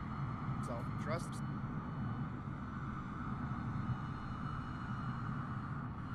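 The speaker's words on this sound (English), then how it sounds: "Hear another airplane coming in here." Steady broadband engine drone of an airplane approaching in a flight simulator, heard while flying a Citation CJ4 from Nome to Anchorage, with a few brief chirps near the start and no talk.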